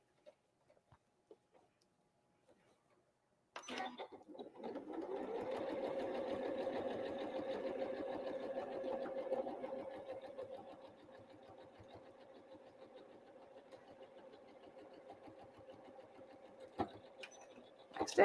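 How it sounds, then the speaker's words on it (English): A sewing machine top stitches pockets on an apron, running in a steady close whir for several seconds, then slowing to a lighter, quieter stitching, with a few clicks around it. "I'm just top stitching down the pockets here."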